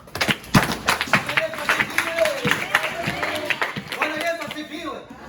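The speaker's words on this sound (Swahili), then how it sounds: "Makofi kwa Roho" Applause in a Free Methodist church in Louisville, Kentucky: a congregation claps in dense, loud bursts that rise and fade, mixed with voices.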